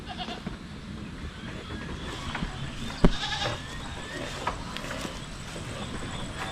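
Goats in an old, worn pen give scattered bleats over a steady background of farm noise, with a sharper knock or thump standing out near the middle.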